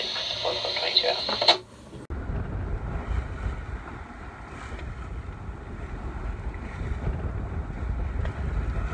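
Sailboat beating into waves against a headwind at sea on the way to Kupang, about 150 nautical miles out from Darwin: a continuous rushing roar of wind and water, loud and close, with dull slapping surges through the hull.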